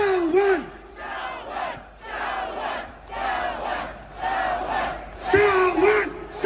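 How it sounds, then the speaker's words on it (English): A crowd chants a name in unison at a rally, repeated rhythmic shouts rising and falling in loud waves, with a lone voice leading over the group. "So I want everybody in the crowd to start chanting, Salwan, Salwan, Salwan."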